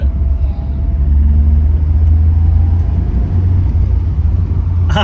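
A 1983 Toyota Corolla drives along, its engine giving a steady, loud low rumble heard from inside the car for the whole stretch.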